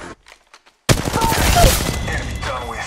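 Rapid automatic gunfire in the mobile battle royale game Apex Legends Mobile bursts in loud and close after near silence, then continues as a dense, rattling fusillade with scattered echoing shots.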